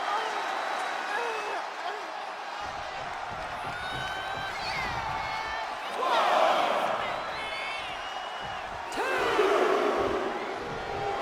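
Video-game arena crowd in WWE 2K24 during a women's wrestling match, cheering and roaring steadily throughout and swelling louder in two surges, all under continuous play-by-play commentary.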